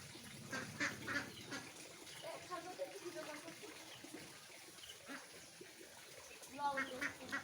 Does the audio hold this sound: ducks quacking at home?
yes